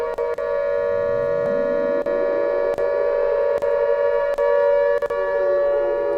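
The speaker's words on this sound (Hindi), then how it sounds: "चंडीगढ़ में सायरन गूंज रहे हैं।" Air raid warning siren sounding across Chandigarh during a high alert, a loud, steady wailing tone that holds for several seconds with faint clicks over it and no voices.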